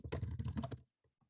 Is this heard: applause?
no